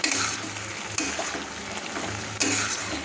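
Prawns with spring onion and chopped coriander stirred in a hot pan, a close sizzle broken by a few scraping strokes of the spoon.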